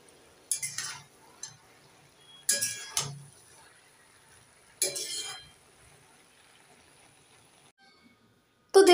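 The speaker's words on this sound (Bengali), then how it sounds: "একটু নেড়ে চেড়ে দিয়ে দেব।" A spoon stirring pumpkin greens and boiled potatoes in a cooking pot: three separate short bursts of scraping and light metallic clinks, close and clear, with quiet gaps between them.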